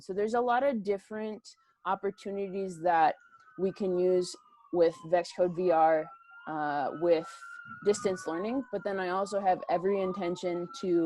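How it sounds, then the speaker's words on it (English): Emergency vehicle sirens wail outside, their long rising and falling tones running faintly beneath nearly continuous indoor speech by a presenter. "apologies if you hear the emergency sirens behind me"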